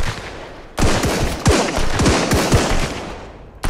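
Rapid bursts of three-shot revolver gunfire in the video game Sunkenland crack out in quick succession, loud and close, with echoing tails between shots.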